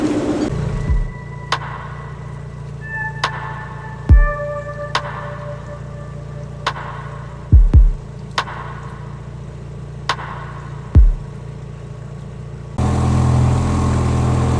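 A new narrowboat engine ticks over steadily, its low hum carrying a series of sharp knocks or clunks every couple of seconds, then a louder, rougher burst of engine noise near the end; no speech.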